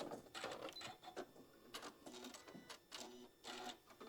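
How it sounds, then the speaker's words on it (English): A sewing machine runs in quick bursts while stitching fabric pieces for a puff pouch, its rapid mechanical chatter starting and stopping several times with short pauses between, close by and fairly quiet, with no voices. "we're going to sew all the way down to the end, and just keep sewing off"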